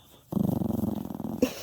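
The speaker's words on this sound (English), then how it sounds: "You were growling at me." A dog growls up close beside a sleeping bag at an Appalachian Trail camp, one sustained, rumbling, pulsing growl lasting about a second in near silence.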